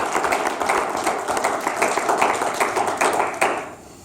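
Audience applause for a panel at the close of a question session: a steady wash of many hands clapping, fairly close and sustained, dropping away near the end.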